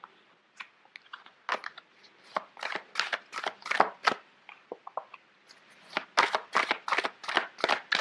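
Oversized tarot cards being shuffled by hand, with irregular bursts of crisp riffling and slapping card noise coming in uneven clusters, close and fairly loud with no talking.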